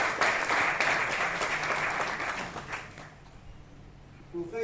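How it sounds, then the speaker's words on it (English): Enthusiastic applause from an audience at an event honoring the sons of the first Mount Everest climbers, loud and sustained at first, then fading to lighter clapping. "A big round of applause for him,"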